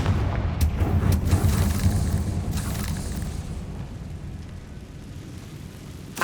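In the Hogwarts Legacy video game, a Confringo spell sets off a fiery blast: a loud, booming explosion with rolling low rumble that slowly fades over several seconds, with no voices.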